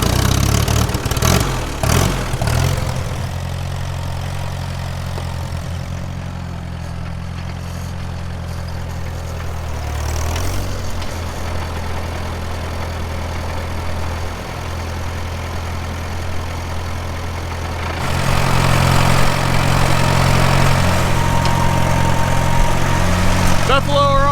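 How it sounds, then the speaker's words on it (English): A tractor engine idles and runs on a buffalo farm, a steady loud rumble that dips briefly midway, then grows louder and rougher near the end as the machine works harder, with no other sounds standing out. "They heard that tractor."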